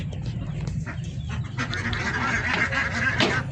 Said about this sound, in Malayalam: താറാവ് നമ്മളപ്പുറത്ത് ഓടി നടന്നുകൊണ്ടിരിക്കുന്നതാണ്